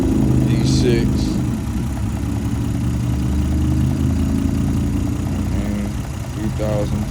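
A 2002 Toyota Camry XLE V6 idles with a steady low engine hum, while brief voices come and go over it.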